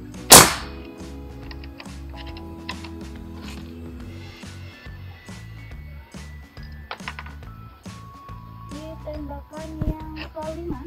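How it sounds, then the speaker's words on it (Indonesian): A Ruger AWM Turbo PCP air rifle fires a single sharp, loud shot near the start, followed by quieter mechanical clicks and background sounds. "Oke, tembakan yang keempat."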